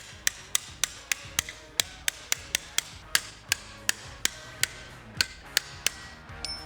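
Small toy hammer tapping on a 1971 Pontiac GTO door hinge in a quick, steady series of sharp, bright knocks, close up, around twenty strikes with brief gaps between them.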